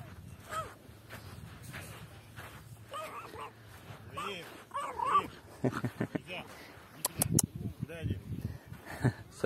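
A small dog on a beach gives sharp yips and whimpers in scattered bursts, while people talk nearby over and between the barks.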